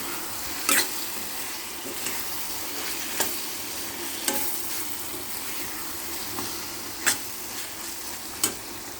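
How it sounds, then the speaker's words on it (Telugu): Salt, chili powder and coriander powder being stirred into an eggplant curry in a pan, with a low steady sizzle and a handful of sharp spoon scrapes and clinks at uneven intervals. "వేసుకొని చక్కగా కలిపేయాలి."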